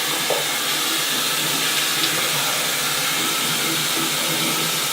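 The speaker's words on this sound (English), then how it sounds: "Water to the face!" Continuous hissing rush of running water, like a tap splashing, fairly close and steady for the whole stretch with no voices.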